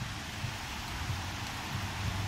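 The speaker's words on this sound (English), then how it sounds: "it's a rainy October afternoon here in London." Steady rain falls on a grey, overcast October afternoon in London, a continuous broadband patter and hiss with no voices, even in level throughout.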